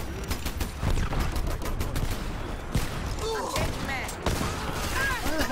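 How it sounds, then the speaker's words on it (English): Rapid gunfire from the online shooter Dirty Bomb crackles in dense bursts for several seconds, loud and close, with a few sharper cracks and mechanical clatter mixed in. "Why the hell is nobody shooting at this aura who's clearly shooting at us?"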